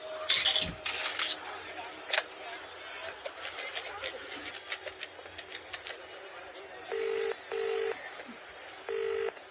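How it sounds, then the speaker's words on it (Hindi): Phone keypad tones beep one after another, a few evenly spaced presses near the end, following earlier clicks and handling noises of picking up a handset at a public call booth near a station. "वहां से उसने अमाया को फोन लगाया।"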